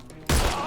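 A sudden loud gunshot blast in the Sherlock Holmes Chapter One video game, Saints and Sinners DLC, after a brief quieter moment, with a ringing tail that stays loud to the end.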